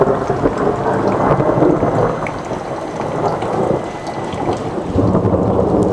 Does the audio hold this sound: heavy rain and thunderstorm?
yes